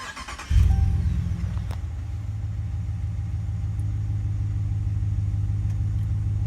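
The engine of a 2019 Ram 1500 Limited pickup cranks and catches, then settles into a steady low idle rumble heard close by with no talk.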